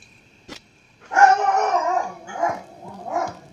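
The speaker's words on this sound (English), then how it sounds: "probably barking at a squirrel." In the Resident Evil video game a dog lets out a drawn-out howling bark after a sharp click, followed by two shorter yelping barks, loud and clear with no talk.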